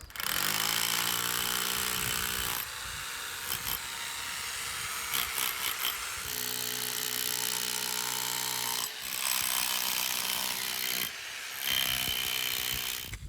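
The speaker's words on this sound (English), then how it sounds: "Got the hammer drill, EcoFlow charged." A hammer drill pounds into a very large rock, running loud and continuous with a harsh rattling drone and brief pauses and restarts, close up with no talking.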